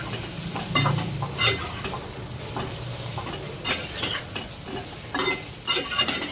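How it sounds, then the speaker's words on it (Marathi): Eggplant pieces frying in hot oil in a pan, sizzling steadily while being stirred and turned, with spatula scrapes and clinks coming in irregular bursts, close up and with no talking. "1 मिनिटभर या तेलामध्ये चांगली वांगी आपण परतून घेऊ."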